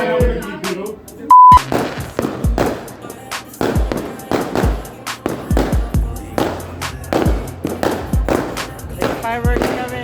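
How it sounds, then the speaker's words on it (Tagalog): New Year's Eve fireworks and firecrackers exploding close by, a rapid irregular series of sharp loud bangs and thuds, with a brief beep near the start and people talking between blasts. "Fireworks kami."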